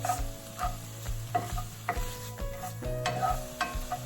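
Beef enchilada filling being stirred and toasted in a hot pan, with a steady sizzle under repeated scraping strokes of a spoon against the pan surface, close and fairly loud, no talking.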